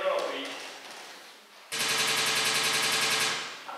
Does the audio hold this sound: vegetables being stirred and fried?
no